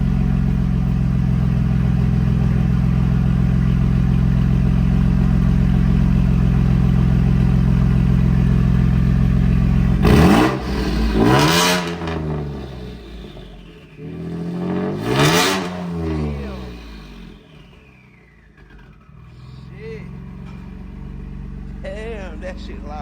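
Ford F150 with a 2.7 EcoBoost engine, loud steady idle then two sharp revs with a shrill rising turbo whistle, close up and dominant, settling back down afterward.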